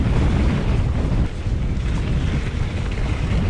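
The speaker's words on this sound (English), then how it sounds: "Oh, this is a battle this is with this wind." A strong headwind roars during a mountain bike descent at Malham Cove in the Yorkshire Dales, a loud, continuous buffeting rush of wind across the microphone.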